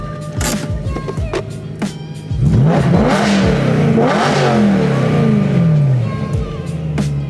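A BMW E90 M3 V8 revs hard and close, with rising and falling engine sweeps and a deep, loud growl that holds steady through the middle, with no talking.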